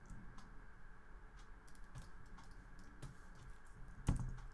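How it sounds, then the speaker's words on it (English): Computer keyboard keys click in sparse, irregular taps during 3D modeling of a couch, quiet and close, ending with one louder clack. "when I hit 3 on the keyboard"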